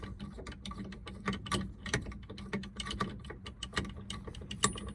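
Bolts being tightened on the steering of a Dodge Power Ram 4x4, with quick metallic ratchet clicks in uneven bursts, close by and fairly quiet.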